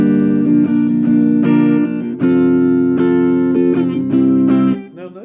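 Acoustic guitar strummed with bare fingers rather than a pick, a steady pattern of full chords with regular down and up strokes that ring loud and close, with no talking.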